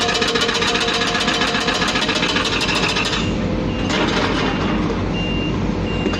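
A loaded excavation truck on a dirt site reverses up a ramp, its backup alarm beeping in a steady rapid rhythm over a loud, straining diesel engine, close and continuous, with a brief engine surge midway.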